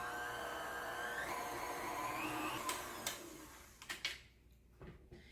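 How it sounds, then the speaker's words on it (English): An electric stand mixer creams butter and sugar for peanut butter chocolate chip cookie dough, giving a steady whirring motor drone that shifts in pitch, then slows and stops, followed by a few clunks. Nobody speaks. "Now we're going to turn our mixer on and cream it together."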